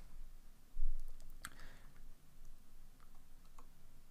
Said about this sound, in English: And I can type backslash W plus